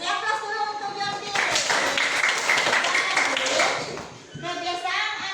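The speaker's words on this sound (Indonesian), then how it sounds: "Oke, beri aplaus dulu untuk Jordi." A classroom of children claps for a student named Jordi, a burst of mixed clapping that builds and fades over a few seconds between stretches of a teacher's voice.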